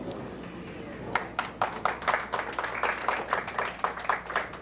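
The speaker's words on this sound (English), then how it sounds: "Give them a round of applause." An audience at a women's division bowling championship match gives a round of applause, a steady patter of claps building after a second and continuing, moderately close and soft, over low room murmur.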